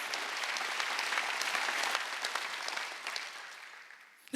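Sustained applause from a church congregation during a Wednesday worship service, a dense wash of many hands clapping that holds steady and then gradually thins and fades toward the end.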